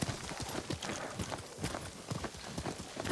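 Horse hooves clip-clop on the ground in the Ghost of Tsushima video game, a brisk, uneven run of close, distinct hoofbeats with no talk over them.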